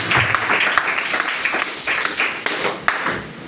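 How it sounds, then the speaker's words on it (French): A church congregation applauds in praise of God during a sermon, a steady wash of many hands clapping close and loud with sharp accents, while a faint voice shows through. "Acclamons d'abord pour notre Dieu"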